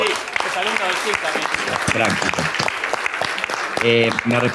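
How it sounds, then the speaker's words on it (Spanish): An audience at a film talk gives a round of applause, a dense continuous wash of clapping mixed under ongoing voices. "Aplauso para Tito."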